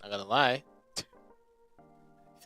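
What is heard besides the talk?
No everyday noise stands out behind the speech.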